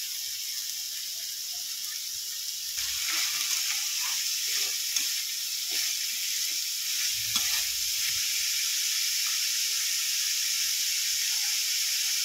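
Beet, carrot, grated ginger and green chili fry with spices in a pan, giving a steady close-up sizzle and hiss broken by occasional scraping stirs.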